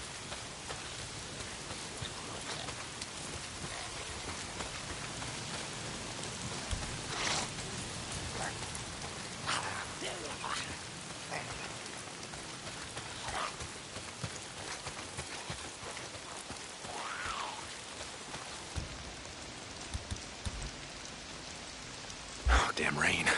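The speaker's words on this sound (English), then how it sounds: "If it's not the freaks, it's the goddamn rain" Steady rain falls throughout a stretch of the video game Days Gone, a constant hiss of drops on surfaces at even loudness, with a few brief louder patters near the end.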